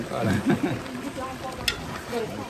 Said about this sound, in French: Faudra que tu secoues la marmite.